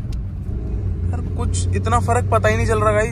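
A Maruti Brezza running on CNG fitted by Expert CNG Solution pulls hard while accelerating, its engine rumble and road noise steady and close from inside the cabin beneath someone talking throughout.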